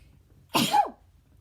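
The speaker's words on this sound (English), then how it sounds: "I'm gonna sneeze again." One sharp, explosive sneeze bursts out close by after a quiet moment, then fades quickly back to near silence.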